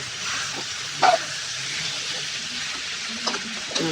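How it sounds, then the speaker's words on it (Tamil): Mixed vegetables and green peas sauté in a pan while being stirred, producing a continuous close sizzle with occasional sharp scrapes and clinks of the spoon against the pan. "நல்லா கிண்டி வதங்கட்டும்."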